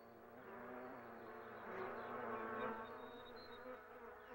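Bees buzzing steadily around their tall towers of hardened wax mixed with plant resin, a dense, continuous droning hum that swells slightly midway with no voices.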